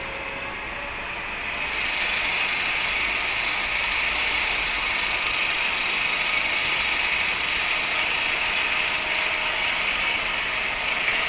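Electric rotating machine on a lab bench being sped up to about 1500 RPM, a steady high whine with rattling mechanical texture that swells slightly after the first couple of seconds and then holds constant, close and loud.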